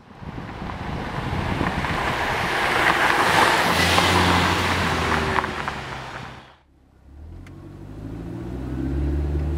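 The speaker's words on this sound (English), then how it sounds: "behind the wheel of the Mercedes-Benz C230 Sport, you know, first couple of feet down the road, it's a Mercedes." A Mercedes-Benz C230 Kompressor Sport is heard from the cabin as it drives down the road, with a steady broad roar of road and wind noise. The roar drops away briefly, then a low engine hum builds again.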